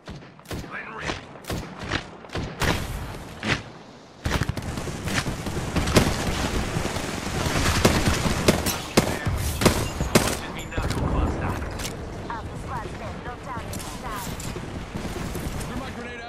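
Gunfire in the battle royale game Apex Legends, dense bursts of automatic weapon fire and sharp single shots with thuds and booms, loud and continuous, with voices talking over the action.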